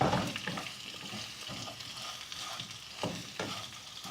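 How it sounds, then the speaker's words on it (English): Sliced onions fry in oil in a pan with a soft, continuous sizzle. A few louder scraping stirs break in near the start and again around the three-second mark, and no one speaks. "And we need to fry the onions for 2 to 3 minutes."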